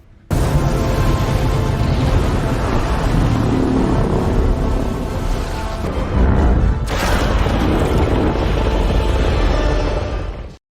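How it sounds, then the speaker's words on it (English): In a Godzilla film, an explosion's shock wave pushes a submarine to the surface, a loud continuous roaring rumble lasting about ten seconds with a sharp surge midway, dense and full throughout. "The shock wave of the explosion helps push the submarine to the surface, followed by Godzilla in what can only be described as an epic display."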